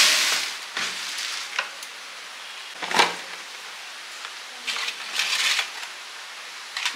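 Papad fries in hot oil in a home kitchen on a rainy day, giving scattered crackling bursts and sizzles over a quiet background, close and moderately loud.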